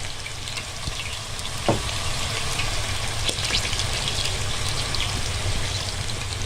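Chopped onion with a pinch of salt sizzles steadily in a pan while a utensil stirs it, giving a constant close frying hiss broken by occasional scrapes and soft clicks.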